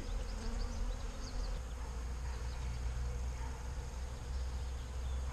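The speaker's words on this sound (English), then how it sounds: "Boy, that's a lot of bees." A swarm of honeybees buzzes steadily around a beehive during a queen release check, a dense continuous drone with individual bees passing close, no voices.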